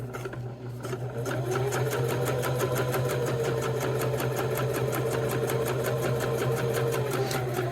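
A sewing machine stitches steadily around a clutch overlay in contrasting thread, a close, continuous rapid mechanical whir with a low motor hum that keeps an even rhythm throughout.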